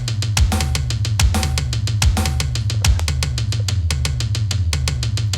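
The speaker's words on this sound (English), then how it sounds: "So the fake toms sound like this." Punchy sampled tom drum hits repeat in a fast, steady pattern, each with a sharp attack and short boomy tail, with other drums underneath.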